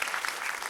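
Brief burst of audience applause, steady and dense, filling the moment without a break.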